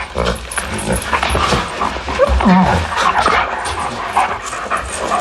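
A dog whimpers and whines softly, with some panting, while people talk over it.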